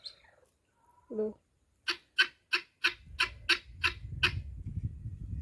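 Parrots squawk in a garden in a quick series of sharp, evenly spaced calls, preceded by a brief lower call, while a rough background noise builds behind them.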